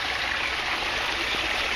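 Water pours out of an aquaponics tank as its level drops quickly, a steady, close, broadband rushing flow like a small stream that never lets up, with no voices.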